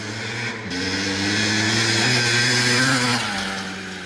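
A freshly rebuilt 1982 Maico MC250 two-stroke motorcycle engine runs steadily and loud nearby, its buzzing tone rising and holding briefly as the throttle opens, then dropping back near the end.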